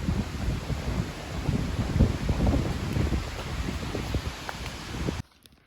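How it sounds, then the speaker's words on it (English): Strong wind gusting across the microphone on an open hilltop walk at Bunny Hill in Sopot, a steady rough rumble with rising and falling bursts that cuts off abruptly near the end. "It's pretty windy actually."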